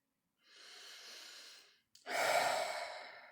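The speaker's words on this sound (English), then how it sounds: "take a deep breath" A deep breath, close and quiet: a soft, drawn-out inhale through the nose lasting over a second, a short pause, then a fuller, airier exhale.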